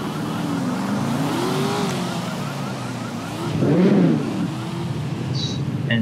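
Engine of a Nissan GT-R spawned in the video game GTA 5, a steady idling and revving hum with a swell of acceleration near the middle, heard alone without talk.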